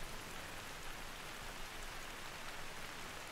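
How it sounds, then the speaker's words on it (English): Rain falls in the hunting video game The Hunter: Call of the Wild, set in an African reserve, as a steady, soft, even patter of broadband noise with no voices. "This is like the first time I think I've seen this place rain."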